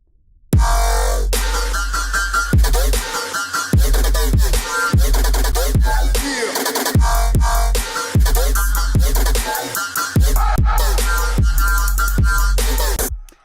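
A booming sub bass line hits in repeated notes with a drum beat over it, deep and punchy, the low end slightly thinned by an EQ cut at 200 Hz.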